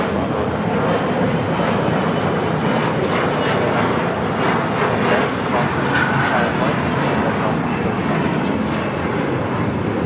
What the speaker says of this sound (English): This is Caleta Air 9701 coming in from Mexico City.